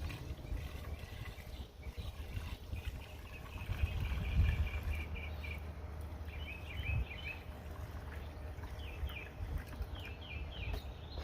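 Water poured from a container onto a raised garden bed of soil, a steady low splashing and trickling close by, with faint birdsong in the background and no talking.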